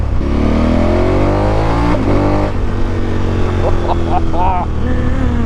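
A 2021 KTM Super motorcycle revs and pulls while being ridden in Scotland, the engine note climbing and shifting under steady wind rush, loud and close to the rider, with a person talking over it.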